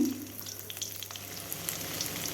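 Peeled garlic frying in mustard oil in a pan: a close, continuous crackling sizzle with faint pops and light stirring, no speech.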